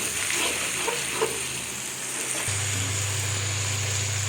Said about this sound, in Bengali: আমি এখন মশলাটা কষিয়ে নেব।